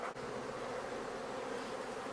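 Honey bees drone steadily inside an opened hive just back from almond pollination in California, a dense, continuous buzz close to the listener with no talking.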